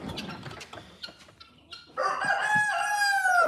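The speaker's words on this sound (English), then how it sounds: "There's the rooster telling everybody he's awake." A rooster crows loudly and close by, one long drawn-out call in the second half, preceded by scattered clucks and light farmyard noise.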